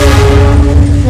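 A panoramic carriage rolls along an Indonesian railway line on the way back from Bandung, giving a steady, close, loud rumble with faint tonal hum throughout.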